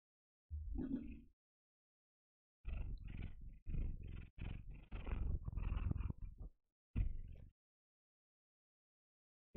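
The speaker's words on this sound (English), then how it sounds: "You're really good at purring." A black cat purrs close to the microphone in rhythmic rumbling bursts separated by short pauses, alone in an otherwise quiet room.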